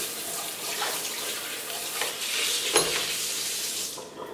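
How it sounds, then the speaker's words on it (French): Food being rinsed under running tap water to wash off vinegar, a steady rushing splash of water that lasts several seconds, with no voices. "Je vais rincer pour enlever le vinaigre."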